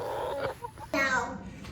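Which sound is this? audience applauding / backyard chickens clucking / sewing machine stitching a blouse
backyard chickens clucking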